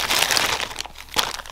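An emergency poncho in its plastic packaging is torn open and unwrapped from a survival kit, giving a brief burst of close crinkling and crackling plastic with one sharp rip near the end.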